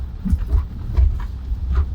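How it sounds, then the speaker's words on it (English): Low, uneven rumble of a Tesla car rolling over a very bumpy road, with repeated thumps and jolts every half second or so, steady and close. "Pardon for the noise here. This is a very bumpy road."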